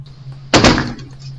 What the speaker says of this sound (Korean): 저는 현관문을 쾅 닫고는 보조키랑 도어락을 미친 듯이 잠갔습니다